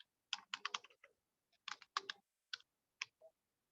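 Quick clusters of keystrokes clatter on a computer keyboard while Python code is entered, close and clear, separated by brief pauses.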